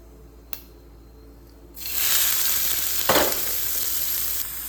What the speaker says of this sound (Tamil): வெங்காயம் கொஞ்சம் நல்லா வதங்கணும்